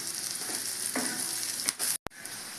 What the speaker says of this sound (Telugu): వేగినాయండి బాగా మన కాకరకాయలు